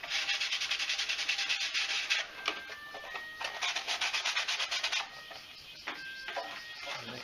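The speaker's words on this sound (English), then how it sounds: "just give it a good rub down" Fiberglass clone trooper armor piece being rubbed down by hand with sandpaper, steady close scraping strokes in rapid bursts with a few short pauses, no talking.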